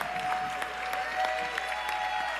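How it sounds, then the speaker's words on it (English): Faint applause from a town hall audience thanking a panel at a Target Fast gathering, steady and low-level throughout with a faint tone sustained underneath. "round of applause for our entire panel"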